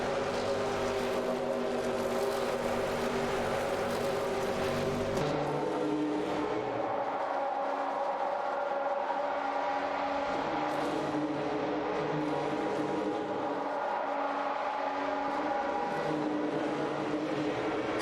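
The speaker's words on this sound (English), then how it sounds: "A tight race for P2 between Paradox in a Toyota 8080 CV and Deplorable Apple in a Sauber C9 is heating up" Race cars in Live for Speed, a Toyota 88C-V and Sauber C9 dueling, steady engine drone with shifting pitch as revs rise and fall, sustained and moderately loud with no pauses.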